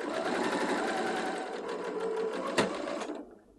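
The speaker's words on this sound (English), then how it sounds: "ready to sew it on the sewing machine" Sewing machine stitching a dart in fabric, a rapid steady mechanical chatter close by, then a brief click before it winds down and stops.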